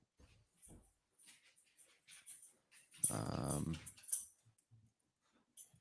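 A dog eating toilet paper gives one short, loud, bark-like yelp with a brief follow-up, close by, between soft scattered sounds and faint talk.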